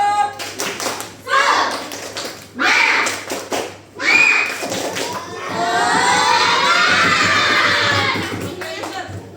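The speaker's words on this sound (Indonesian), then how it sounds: "Oke, tepuk semangat." Fourth-grade schoolchildren doing a spirit clap in class: bursts of rhythmic group clapping separated by short pauses, then a long sustained stretch of children shouting and cheering, loud and close.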